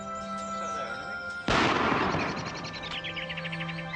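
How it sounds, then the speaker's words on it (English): A single loud shotgun blast near a quiet country house, cracking sharply over a calm background and trailing off while birds chirp steadily afterward. "Only a gun"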